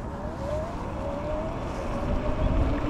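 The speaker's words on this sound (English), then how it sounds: "We'll see how fast the motor can get this bike up to 20 miles per hour when the throttle is in high mode." A JackRabbit XG micro e-bike motor accelerates at full throttle in high mode, a steady whine rising in pitch over a continuous rush of road and wind noise, with no talking.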